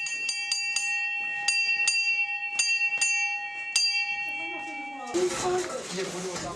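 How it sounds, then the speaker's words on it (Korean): A bell at a Mustang monastery rings out for lunchtime, a train of sharp metallic strikes with long sustained ringing tones, close and clear, before a sudden burst of dense noise takes over at the end. "반가운 점심시간을 알리는 종소리가 울립니다."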